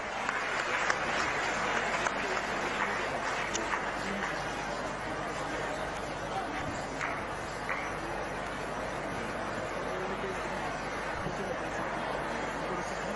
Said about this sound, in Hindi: तालियों से स्वागत माननीय मुख्यमंत्री जी का